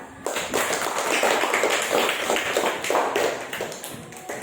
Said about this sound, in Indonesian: Kita tepuk tangan dulu untuk hasil kalian.